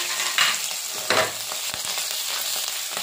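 Curry leaves hit hot oil for jeera rice and burst into a loud crackling sizzle, with two sharp spitting flare-ups, then settle into a steady frying hiss with light stirring scrapes.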